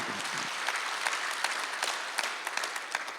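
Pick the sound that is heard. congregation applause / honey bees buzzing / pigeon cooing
congregation applause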